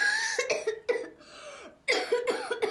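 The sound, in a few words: coughing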